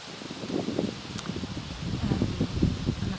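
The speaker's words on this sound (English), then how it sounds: "It's so windy" Gusty wind buffets and rustles outdoors in a garden, a soft continuous roar close to the microphone, with a faint voice underneath.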